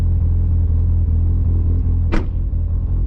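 A Mitsubishi Evo 8 GTR engine with a worn clutch rumbles loud and close at steady revs, a low throbbing drone broken by a short sharp burst partway through.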